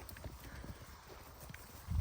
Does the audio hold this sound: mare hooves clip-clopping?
yes